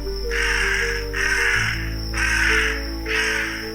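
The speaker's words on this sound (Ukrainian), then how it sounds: "Дорогою вони зустріли старого ворона." A raven in a Ukrainian-language children's cartoon caws loudly four times in a steady, evenly spaced rhythm over a sustained musical background.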